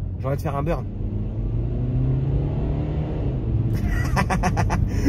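A tuned BMW 320d e92 diesel rumbles low and steady as it drops a gear, the tyres slipping. Someone talks near the start and again near the end.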